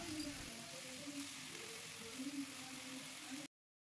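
Marinated chicken with ginger garlic paste sizzles steadily in a pan, a soft, even frying hiss that is quiet and unbroken before cutting off abruptly.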